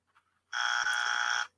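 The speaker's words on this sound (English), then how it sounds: "One more time, I'm gonna give a buzzer" A single loud, harsh buzzer blares for about one second, a steady electronic drone that cuts off abruptly, with nothing else around it.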